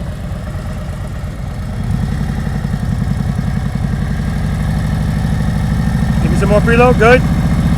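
A motorcycle engine idles and pulls at low speed during slow-speed riding practice, a steady low throb that rises a little as it goes. An instructor talks over it throughout.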